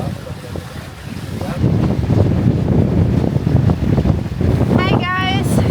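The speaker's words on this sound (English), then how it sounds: "here is the wind is coming up" Wind picks up while sailing on the Patras Gulf, gusting loudly across the microphone with rushing air over the boat, growing stronger after the first couple of seconds.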